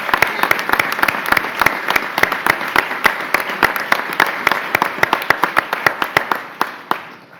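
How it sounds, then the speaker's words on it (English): An audience at a hospital announcement event bursts into a round of applause, steady dense clapping from many hands that carries on for several seconds before tapering off at the end. "You deserve a round of applause."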